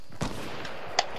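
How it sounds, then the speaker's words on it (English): Distant gunshots in Fortnite, two short sharp cracks about three quarters of a second apart, the second brighter and louder, over faint background noise. "Oh, I hear gunshots."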